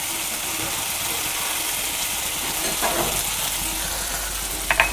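Spice paste of ginger, turmeric, chilli powder and chopped tomato fries in a pan for prawn malai curry, a close steady sizzle with scraping stir strokes and a couple of sharp utensil clicks near the end.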